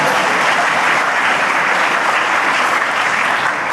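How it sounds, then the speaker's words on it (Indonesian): Steady, dense applause from an audience at a public talk, clapping continuously and loudly with no speech over it. "Jadi silakan tepuk tangan."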